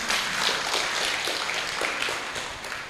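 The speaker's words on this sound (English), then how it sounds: "clap for them, please" An audience claps for a group at a scientific training event, a steady, dense patter of hands from many people, moderately loud and sustained throughout.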